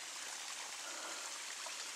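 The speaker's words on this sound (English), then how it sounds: "It's kind of muddy up here because all this water's running down the hill." Water trickles down a muddy hillside in a state park, a faint, steady, airy rush of runoff with no voices present.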